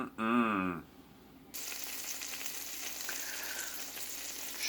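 Buttermilk biscuits dipped in an egg, milk and cinnamon dredge sizzle steadily in a hot pan, a soft continuous frying hiss after a brief burst of other noise at the start.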